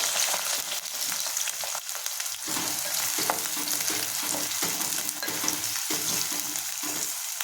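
Sliced onions and green chillies frying in hot oil, a loud, dense, continuous sizzle with crackling pops and occasional stirring scrapes, close and steady with no voices.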